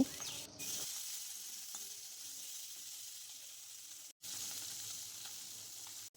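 Desi tangra fish frying in hot oil in a wok, a soft continuous sizzle and hiss with faint crackles, broken by two brief dropouts.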